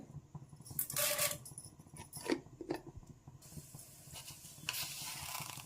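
Chana dal added to hot oil in a pan before making masala dosa, a soft sizzle with light scattered clicks and stirring, fairly faint and close, with no talking.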